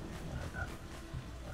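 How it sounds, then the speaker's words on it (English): In the boggy swamp level of the video game Jak and Daxter, a frog croaks loudly and close in low, repeated grunting pulses over a dense swampy game background. "that frog sounds really loud"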